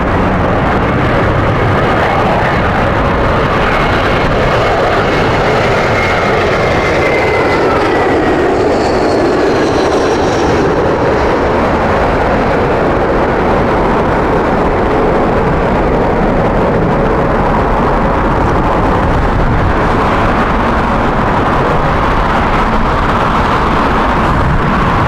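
Qatar Airways Boeing 777 landing at Heathrow in strong crosswinds, a steady broad roar of jet noise that holds through the whole stretch at a distance, with no voices.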